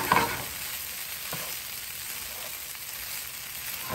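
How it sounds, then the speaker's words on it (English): Sesame chicken sizzling and reducing in a hot pan, a steady close frying hiss with faint stirring scrapes, no talking. "turn our chicken back up, get that reducing so we can plate"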